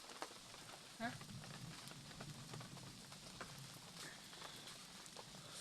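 Steady evening rain patters down in rural Isan, Thailand, a soft continuous hiss with scattered drops, fairly quiet and without voices.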